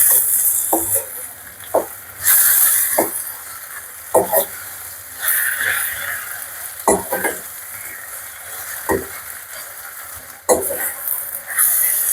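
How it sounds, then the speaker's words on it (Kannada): Tomatoes fry in a pan for a spicy tomato chutney, with a steady hiss and a handful of sharp stirring clacks spaced a second or two apart, close and with no talk. "ಟೊಮೊಟೊ ಹಾಕಿ ಚೆನ್ನಾಗಿ ಫ್ರೈ ಮಾಡ್ಕೊಳ್ಳೋಣ."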